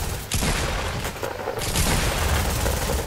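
Pump shotgun fire in the Fortnite video game, a short burst of loud, dense gunfire and impact noise lasting a few seconds, with no talking.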